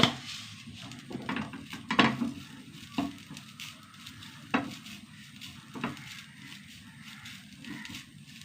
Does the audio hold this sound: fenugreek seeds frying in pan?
yes